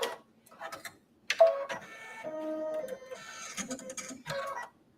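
An embroidery machine stitches small dots of black accent thread on a sunglass case design, then trims the thread: a steady mechanical whirring run of rapid stitches with brief pauses and clicks, close and moderately loud.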